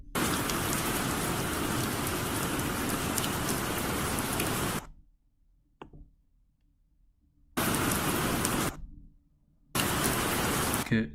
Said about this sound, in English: in this one he does storm sounds